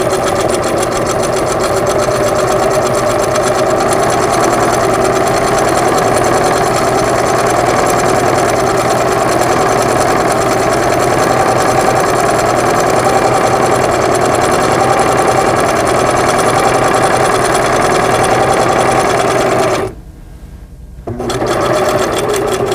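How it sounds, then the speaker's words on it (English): A Singer sewing machine runs a straight stitch along a quarter-inch seam in quilting fabric, a loud continuous rapid whir with a brief pause near the end before it resumes. "Set your sewing machine for a straight stitch and stitch a 1/4 inch seam allowance."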